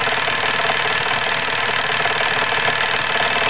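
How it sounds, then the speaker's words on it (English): A motor runs steadily while driving a stepper generator, a close, even mechanical hum with a faint rattling texture and no change in pitch throughout. "Okay, shut down the motor."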